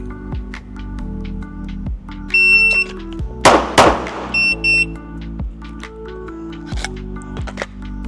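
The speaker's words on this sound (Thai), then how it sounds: "ผมจะลองยิงแบบสองนัดภายใน 2 วินาทีนะครับผมโดยชักออกมาจากซองนะ" A pistol drawn from a holster at a shooting session: a shot timer beeps, then two sharp, loud gunshots crack in quick succession, followed by further timer beeps, with clicks and handling noises around them.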